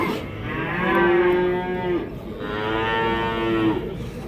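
Cattle at a livestock market in Karakol give two long, deep moos in a row, close and loud, over a low background murmur.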